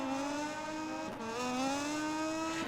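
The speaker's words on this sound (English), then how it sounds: "This Moto 2 bike sounds incredible." A Moto2 racing motorbike engine in the video game MotoGP 19 holds a high buzzing pitch, dips briefly as a gear changes, then climbs again steadily and loudly.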